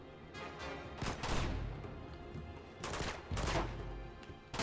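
Gunfire bursts in the Uncharted 2 video game, including grenade launcher shots, in two loud clusters of rapid cracks separated by quieter stretches.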